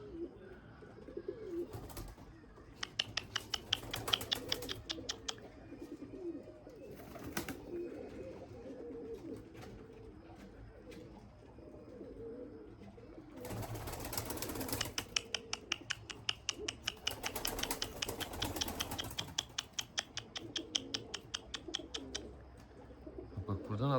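Pigeons in a breeding loft coo softly and shuffle about, with bursts of wing flapping and sharp tapping clicks from the birds moving around the enclosure at close range.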